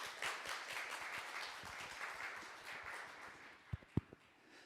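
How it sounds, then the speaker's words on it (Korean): A conference audience at a corporate CSR event greets a keynote speaker with faint, scattered clapping that thins out, ending in a few sharper individual claps. "그럼 큰 박수로 최재천 교수님을 모시겠습니다."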